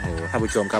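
Chickens and roosters gather for food at a Thai temple, clucking loudly and crowing close by while someone talks over them.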